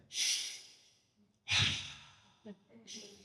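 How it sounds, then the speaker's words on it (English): Loud, forceful breaths up close: two big airy inhales or exhales separated by pauses, then a quick catch and another shorter breath. "When we think about deep breathing, this is what deep breathing could look like."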